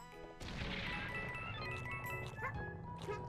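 Platforms in Yoshi's New Island come crashing down with a loud smash, then keep rumbling and clattering under the game's music and effects, with faint talk nearby.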